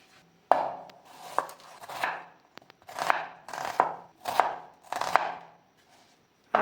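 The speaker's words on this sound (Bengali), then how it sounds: "পেঁয়াজ, আদা, রসুন, কাঁচা লঙ্কা, টমেটো এই কটা আমি কেটে এটাকে আমি বেটে নেব।" Knife chopping onion, ginger, garlic, green chili and tomato on a cutting board in a home kitchen, a series of close, crisp cuts in uneven bursts with short pauses and no talking.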